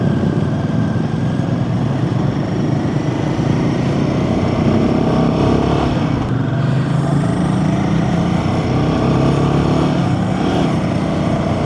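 A Royal Enfield Himalayan 450 motorcycle trundles along in fourth gear on a damp road, giving a steady, loud engine drone heavily mixed with rushing wind, with no voices.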